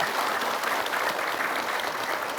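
An audience at an Islamic religious talk show claps continuously, dense and even applause filling the whole stretch without any talking.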